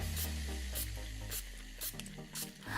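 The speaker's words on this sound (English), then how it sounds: "spray this all over our face" Several short, breathy hisses of a setting spray mist pumped onto a face in quick bursts, close and fairly soft, with pauses between each spritz.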